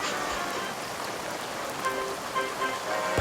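Heavy rain falling in a steady, dense hiss on surfaces in a railway storm scene, continuous and moderately loud with no voices.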